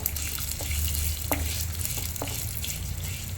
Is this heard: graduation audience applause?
no